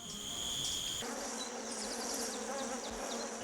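Wasps buzz in a close, continuous drone with several overlapping tones that shift as the insects move about, steady for a few seconds with no talking.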